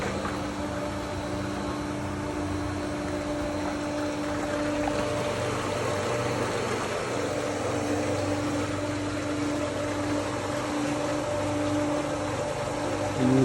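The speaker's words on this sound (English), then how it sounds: "you start to hear water running through the pipe now" A pool pump used for vacuuming a pool runs with a steady mechanical hum and tonal whine while water rushes through the pipe in a continuous hiss, close and unchanging.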